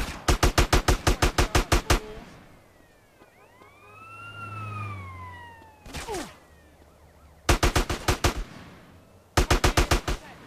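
Automatic gunfire in the video game GTA San Andreas during a Grove Street gang mission, rapid loud bursts of shots, a gap filled by a wailing police siren, then two more bursts.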